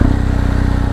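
A BMW R1250 GSA Anniversary Edition motorcycle engine, started with the electric start button, settles into a loud, close, even idle pulse for a moment with no voices.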